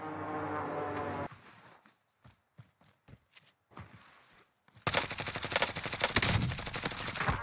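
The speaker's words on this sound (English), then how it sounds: "This guy up here is still so hard set on shooting me." Warzone video game gunfire: a sustained burst of automatic fire, then a series of spaced single shots and footsteps, ending in a loud dense fusillade of rapid shooting.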